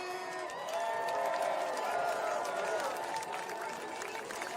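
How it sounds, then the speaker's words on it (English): A crowd at a No Kings protest in Austin cheers and applauds for Bridget Bendy, a steady wash of clapping with whoops and shouts rising and falling across the clip. "I need a big Austin weird ass round of applause for the one, the only Bridget Bendy"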